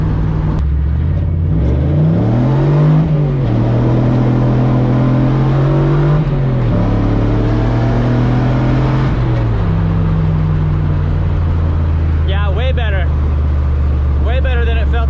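A Toyota 3UZ V8 swapped into a Nissan S14 on light-throttle rolling pulls, its engine note climbing and settling in several stepped rises, loud and close, with a voice talking over the drone.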